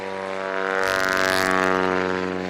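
A propeller airplane landing at a Rocky Mountain STOL competition, its engine a steady harmonic drone that swells briefly as the aircraft passes close, then holds loud and even.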